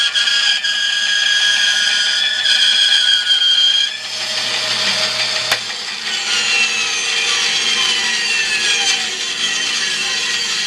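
Saw cutting wood as the board is pushed past a magnetic feather board, a loud steady whine that shifts in pitch partway through, with no talking.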